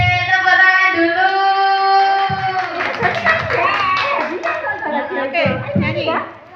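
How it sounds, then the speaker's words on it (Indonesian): Children's clapping at a seventh birthday party, starting alongside sung or drawn-out voices, then breaking into scattered hand claps mixed with excited kids' chatter and cheering. "Yeay, tepuk tangan dulu."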